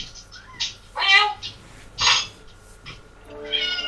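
A cat in Final Fantasy XII The Zodiac Age on PS5 gives several short meows spaced apart, faint against quiet background game sound.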